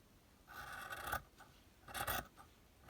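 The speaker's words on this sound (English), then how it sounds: "I will trim this off, trim this down" Scissors trim material for a spring journal, two short bursts of snipping and rustling paper close by, quiet and crisp.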